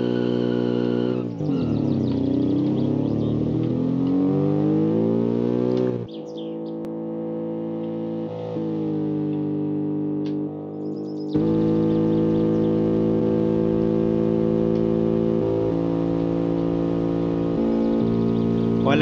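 Car with a boxer 1.2 engine accelerating hard in the game Automation. A continuous buzzy engine note climbs in pitch, drops at a gear change, climbs again and shifts once more, loud and alone.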